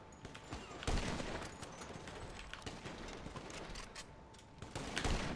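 Sniper rifle shots ring out in GTA 5 Online during a BMX parkour versus snipers match, a few sharp cracks scattered over a busy, steady game background with no talk.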